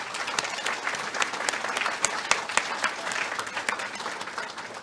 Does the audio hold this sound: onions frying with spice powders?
no